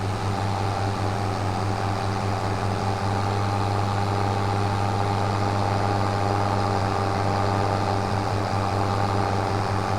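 Tractor engine in Farming Simulator 25 running steadily at idle or low revs, a deep continuous hum with a tonal drone, close and unbroken for the whole stretch with no talking.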